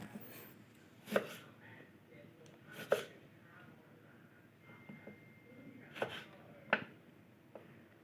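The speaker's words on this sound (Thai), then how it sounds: "เราหั่นมะนาวนะครับ" A knife cuts through a lime on a cutting board while making Thai laab with shrimp. About five or six crisp, separate chops land at uneven intervals, close and clear against a quiet room.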